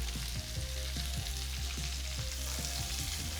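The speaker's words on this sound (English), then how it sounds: "You can hear it sizzling." Onions sizzle in bacon grease for a chili, a steady close frying hiss with soft crackles and scattered pops running throughout.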